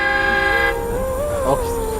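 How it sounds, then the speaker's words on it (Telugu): A train horn sounds as a train departs from a railway colony: a loud, steady sustained toot for under a second, then the horn cuts off and mixed station and engine noise carries on. "మన ట్రైన్ వెళ్ళిపోతుంది"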